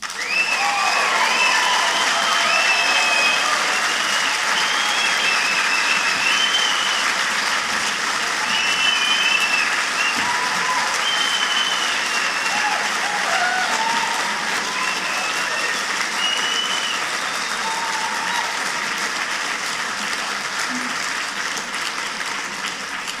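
Sustained audience applause with a few scattered cheers after closing remarks at a Reasonfest 2013 debate on moral high ground, steady and loud for over twenty seconds with no speech.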